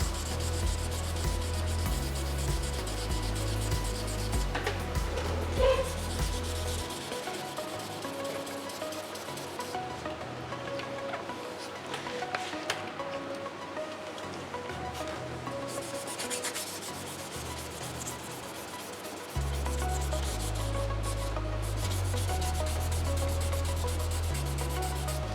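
Paint runs in the clearcoat of a muscle car respray are rubbed down by hand, a continuous close scratchy sanding rasp that lasts throughout. A low rumble drops away in the middle stretch and returns near the end.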